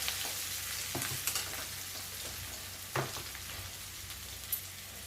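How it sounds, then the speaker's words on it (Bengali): Softer, steady sizzling of chopped onion browning in oil, with a handful of spatula knocks and scrapes spaced through the crackle. "পেঁয়াজটা লাল লাল করে ভাজা হয়ে গেছে দেখুন"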